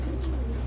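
Pigeon (kabootar) cooing softly in a low, steady murmur, a pigeon pair kept in a loft in Sialkot, close and continuous for a brief moment with no talking.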